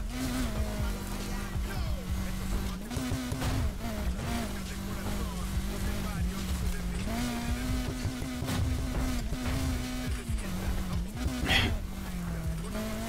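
Off-road vehicle engine in the racing game NFS Heat, a continuous droning motor with pitch rising and dipping as it accelerates and shifts, loud and steady throughout.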